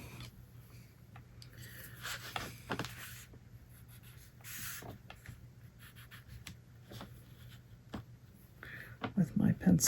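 A pencil marks paper in a run of soft, scratchy strokes, close and quiet, with a brief voice and a low background hum around it.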